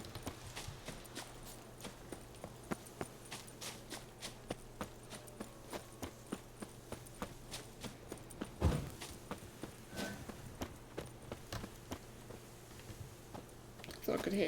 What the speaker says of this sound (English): Thought I could hear the horse hooves then.